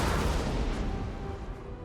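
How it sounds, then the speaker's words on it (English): Cannon fire in the video game Napoleon Total War comes as a dense, rumbling boom that fades over about two seconds, broad and heavy like layered artillery. "Cannon's about to go."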